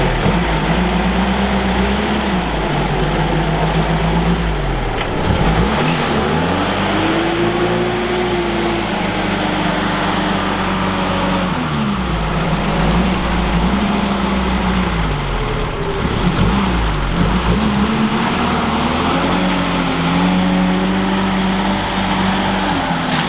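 A Humvee engine revs hard as the vehicle slips and then drives out, a loud, steady, close-up drone with repeated rising and falling rev sweeps throughout, no talking.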